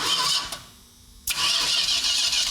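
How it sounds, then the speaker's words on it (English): A Dodge Super Bee engine cranking over, a close, loud rhythmic starter churn that cuts out for a moment and then resumes, with no talking. "let's just see if it cranks over like it's supposed to"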